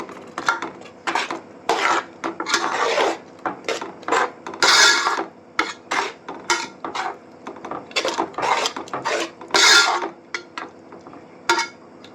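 A spoon stirs cloves and cinnamon pieces into a thick jaggery mixture in a pot, giving irregular scraping and clinking strokes of metal on cookware, close and fairly quiet, with no talk.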